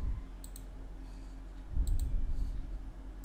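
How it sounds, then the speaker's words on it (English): Computer mouse button double-clicked twice, two quick pairs of small sharp clicks heard close against a low background hum. "So just double click it to extract this zip file."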